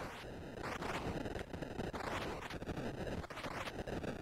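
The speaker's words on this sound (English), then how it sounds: "That's the sound of me running out of fuel." Video game spaceship running low on fuel, heard as a pulsing, sweeping electronic drone with repeated rising tones, steady and moderately quiet with no talk over it.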